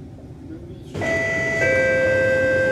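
In the openBVE train simulator, a C151 train's bright electronic door-closing chime rings out twice, its tones sustaining over a steady background rumble, with faint voices underneath.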